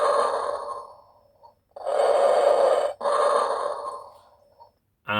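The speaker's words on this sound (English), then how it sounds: "So it's got sound effects for breathing." A Darth Vader telephone plays its mechanical breathing effect: slow, heavy, rasping inhale and exhale cycles, three loud breaths separated by short gaps, ending with a faint electronic tone.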